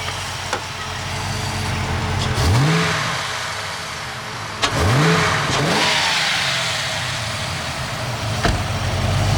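A Ford AU XR8 engine is revved twice while parked, each rev rising sharply and falling back to a steady idle between them, loud and close.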